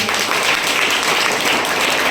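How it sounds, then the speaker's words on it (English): A crowd at a school quiz competition claps steadily, a dense wash of applause holding at even loudness throughout with no voices standing out. "Give a big clap."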